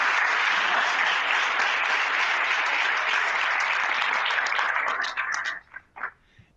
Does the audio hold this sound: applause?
yes